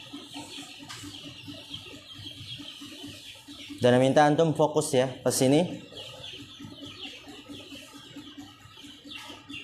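Chickens cluck and squawk in a short loud burst nearby, with faint clucking before and after, while someone speaks over them.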